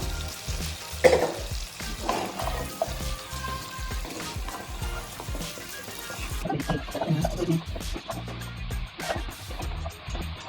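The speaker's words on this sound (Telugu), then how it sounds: "ఇప్పుడు దీంట్లో నేను టమాటా కట్ చేసుకున్న కూరగాయ ముక్కలన్నీ వేసేస్తున్నాను" Chopped tomato and mixed vegetables sizzle hard in a pan of softened onion for sambar, with busy spattering and stirring scrapes throughout and a brief lull in the crackle partway.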